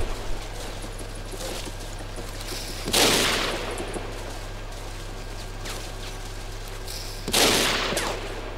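Gunfire rings out in the video game Battlefield Heroes: two loud bursts of shots, a few seconds apart, over a steady background of game ambience and hum.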